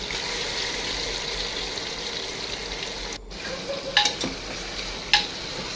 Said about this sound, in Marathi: तेल गरम झालं ना असं चिकन सोडून द्यायचं मध्ये.